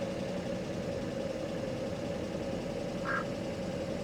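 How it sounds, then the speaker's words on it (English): A Mercedes S500 Coupe engine idles high and a little rough, a steady continuous hum held throughout with no talk, plus one brief faint chirp near the end. "That's a way higher idle than yesterday."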